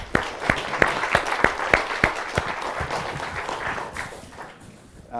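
Audience at a monthly training session applauds a participant, a short round of clapping with several sharp, evenly spaced loud claps up close that thin out and fade toward the end.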